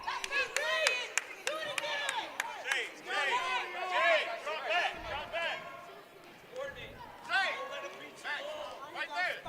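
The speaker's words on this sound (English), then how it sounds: "Festive crowd in attendance" A festive crowd claps and cheers at an indoor game, with sharp scattered claps over steady crowd chatter and commentators talking throughout.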